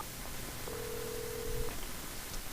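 A telephone in the video game Alan Wake gives a single steady electronic tone lasting about a second, faint and alone against a low background hiss.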